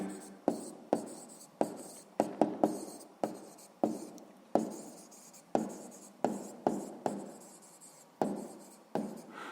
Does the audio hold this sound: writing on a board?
yes